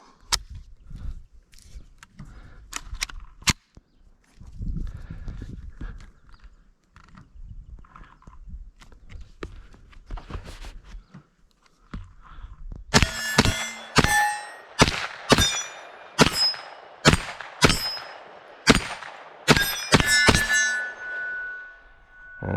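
Shots from a Marlin Camp Carbine Model 9 firing Herter's ammunition crack in a rapid string of about ten sharp, ringing reports after quieter handling clicks and movement.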